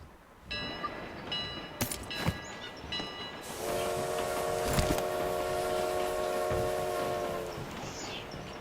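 Train in the mobile battle game BGMI: tonal horn blasts and hissing give way to a steady rolling rumble with a sustained harmonic whistle tone, fairly faint and without talk.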